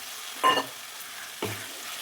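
Green peas added to hot oil and sautéed: two brief scraping stirs a second apart over a faint sizzle, close and moderately loud.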